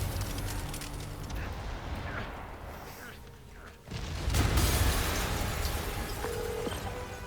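Rumbling explosion in Marvel's Spider-Man Remastered with a burst of crackling debris, followed by sustained low roaring noise, fairly loud amid dense game sound.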